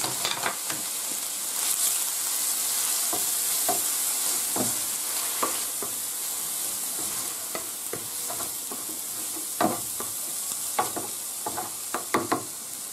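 Onion sautés in oil in a pan for a Gandia-style fideuà, giving a continuous close sizzle broken by frequent sharp scraping taps of stirring.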